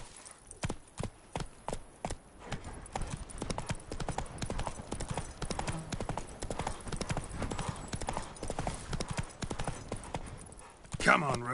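The horse Roach gallops in The Witcher, hooves clip-clopping in a fast rhythm that speeds into a continuous drumming, close and steady, with a voice speaking over it and a brief whinny-like sound near the end.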